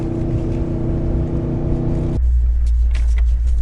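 A Nissan Titan Pro4X pickup cruises at about 40 mph with a loud, steady engine and road rumble, and the sound shifts abruptly to a deeper, smoother roar partway through.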